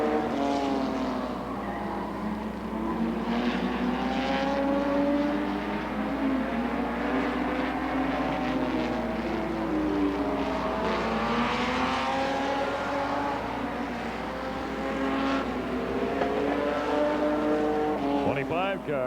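Stock cars race around an oval track in 1990, their engines a constant loud roar with pitches rising and falling as cars pass, while a commentator talks over the noise throughout.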